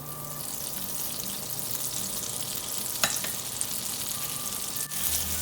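Butter and oil melting and sizzling in a pan before paneer is fried, a steady close hiss of frying throughout with a faint clink or two partway.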